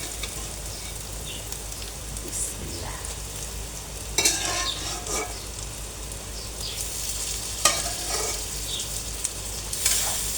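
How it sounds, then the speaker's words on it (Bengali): Tripe fries in a pan with a paste of ginger, garlic and onion masala, giving a steady low sizzle under a constant background hum, broken by a few brief scraping stirs and clinks. "এখন আমি ভুড়িটা দিয়ে দেব।"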